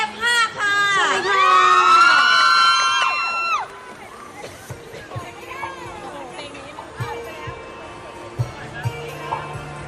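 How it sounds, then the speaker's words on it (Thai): A crowd at the Money Expo greets a performer with loud cheering and high shrieks for a few seconds, then settles into lighter clapping and chatter with scattered voices. "ขอเสียงปรบมือเอาดังๆสุดชีวิตเลยนะคะ"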